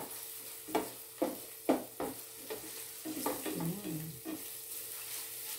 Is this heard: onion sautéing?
yes